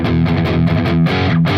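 Distorted electric guitar riff played in an odd 7/4 meter, loud and saturated with chugging repeated notes and accented chord hits, heard alone.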